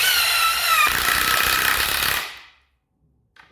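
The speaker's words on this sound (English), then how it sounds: "We're here with the impact wrench, and we will use the impact wrench." An Ozito 18V 3-speed impact wrench with a 10mm impact socket hammers a bolt in a loud continuous rattling burst lasting about two seconds, then cuts off into silence before a faint clunk.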